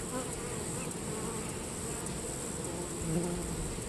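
A steady, dense buzzing of many honey bees fills the space close by from an opened hive during inspection, continuous and even, with no voices.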